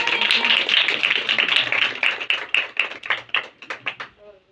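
A crowd at a Christmas worship service applauds steadily, then the clapping breaks up into separate claps and dies away.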